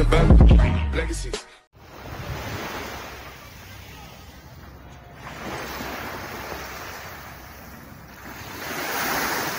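Sea waves wash against the shore on the Aragon coast during a fishing outing, with a continuous surging roar and strong wind buffeting the microphone. A short burst of other sound opens the clip before a brief dip.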